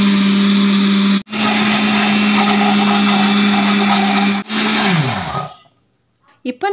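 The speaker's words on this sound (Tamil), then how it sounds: "இப்போ வந்து இதை பிளெண்ட் பண்ணிக்கொள்ள வேணும்." A blender whirs steadily and loudly, blending a sugar, egg and vanilla mixture for bread pudding. The motor cuts out briefly twice, then winds down and stops near the end.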